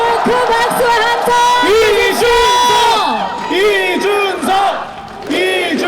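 A large crowd at a South Korean presidential campaign rally roars, cheers and chants in loud, rhythmic unison, with swelling and fading shouts.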